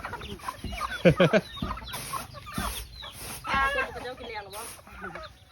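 Chickens cluck and call around a village in a Lao mountain valley, close and intermittent, mixed with people talking nearby.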